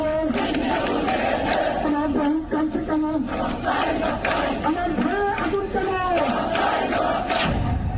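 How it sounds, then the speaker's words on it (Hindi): A large crowd at a Hindu protest in Bangladesh chants Hare Rama Hare Krishna, a loud, continuous mass of voices with rising and falling chanted phrases filling the space. "अब वहां पर हरे रामा हरे कृष्णा की गूंज सुनाई दे रही है।"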